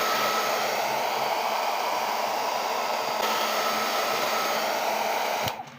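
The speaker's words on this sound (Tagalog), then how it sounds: "kailangan natin siya i-blower para medyo lumambot yung pandikit na ginamit sa kanya" A blower heats a cellphone's LCD to soften its glue before removal, a steady, loud, unbroken rushing hiss lasting several seconds that cuts off abruptly at the end.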